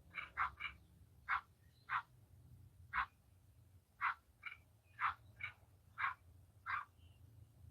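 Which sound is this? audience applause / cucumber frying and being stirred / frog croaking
frog croaking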